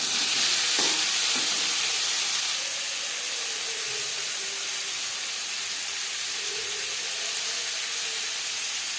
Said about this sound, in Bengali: সবার প্রথমে এঁচোড় হালকা করে ভেজে নেব।